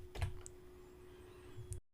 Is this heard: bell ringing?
no